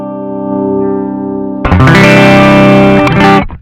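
Electric guitar through a BOSS CP-1X compressor pedal with the level knob raised: a sustained ringing chord that is then struck hard into a louder, brighter strummed chord before cutting off, close and alone.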